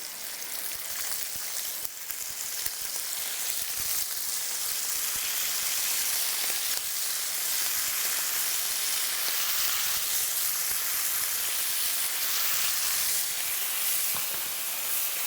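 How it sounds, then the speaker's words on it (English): Beef steak for tacos sizzles in a hot pan, a steady loud crackling hiss that continues without pause, with no voices. "Let's hear the sizzle and see if it's hot enough."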